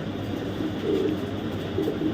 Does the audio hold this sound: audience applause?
no